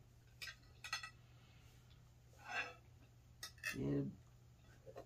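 Spoon scraping the inside of a small carving pumpkin, heard as a few faint, brief scratchy strokes and clinks spread out over a low steady hum, with a louder rubbing scrape near the end.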